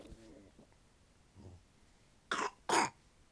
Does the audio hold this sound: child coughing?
yes